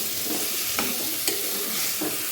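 Tomatoes hit a pan of frying vegetable pulao, giving a soft sizzle with a few sharp stirring scrapes and taps spaced through the short stretch.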